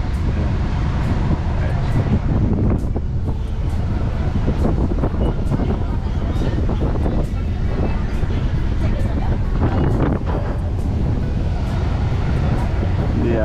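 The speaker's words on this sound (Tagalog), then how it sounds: "Yung hangin na ito mga kapuski," Strong monsoon wind blows steadily over an outrigger boat near a pier at Boreas Island, a constant roaring gust with water lapping beneath and faint voices mixed in.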